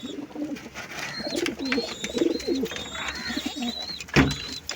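Pigeons coo steadily in a loft where a hen sits on freshly laid eggs, soft repeated throaty calls overlapping close by, with faint chirps and a brief knock near the end.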